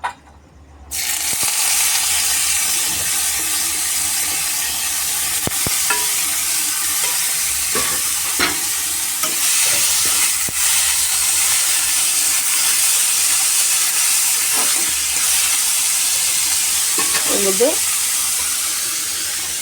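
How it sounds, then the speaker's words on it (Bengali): Chopped onion dropped into hot oil in a kadai sets off a loud, continuous sizzle and hiss that persists throughout, with occasional stirring scrapes and clinks, close and steady with no speech. "তো কড়াইতে আমি তেল দিয়ে দিয়েছি। তো পেঁয়াজটা কড়াইতে দিয়ে দেবো।"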